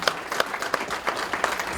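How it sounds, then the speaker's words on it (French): An audience at a 2019 ceremony applauds their president, a steady patter of many hands clapping at moderate distance, with no voices. "Applaudissez s'il vous plaît, notre présidente."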